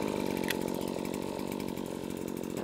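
A Husqvarna RXT brushcutter's small two-stroke engine, already warm after a pull-cord start, runs at a steady buzzing idle, fairly faint and alone.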